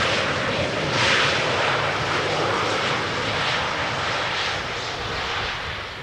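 A fixed-wing airliner approaching Schiphol's Polderbaan runway roars steadily overhead, its engine rumble swelling around the first second and then slowly easing off as it passes, with no voices.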